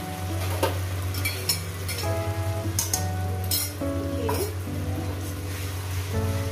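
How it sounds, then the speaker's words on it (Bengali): Ginger-garlic-chili paste sautés with a little water in a pan, sizzling and bubbling steadily while a utensil clinks and scrapes against the pan. A low hum runs underneath, and no one speaks. "এইটা একটু কষিয়ে নেব যাতে রসুনের ফ্লেভারটা যাতে কাঁচা গন্ধটা যাতে চলে যায়"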